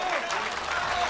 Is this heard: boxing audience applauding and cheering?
yes